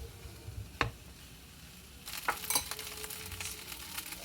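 Rice sizzling as it fries in pork fat in a pan, a soft crackle with a sharp clink of a utensil, then louder spattering hiss and stirring scrapes.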